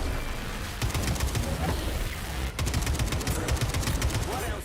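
Rapid bursts of AK rifle fire in the video game Atomic Heart, loud repeated shots in two stretches separated by a brief pause, over a dense game soundscape.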